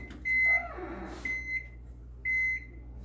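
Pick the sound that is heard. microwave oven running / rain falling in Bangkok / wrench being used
microwave oven running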